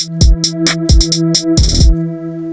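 A programmed hi-hat pattern plays every hit at the same level, crisp ticks in a quick, uneven rhythm alongside a low sustained bass tone and a few kick thumps, ending on a brief cluster of hits.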